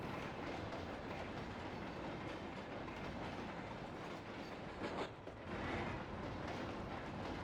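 A train in a Train Simulator Argentina route rolls past at a crossing, producing a continuous heavy rumble with faint rhythmic wheel clatter and a slight swell toward the end.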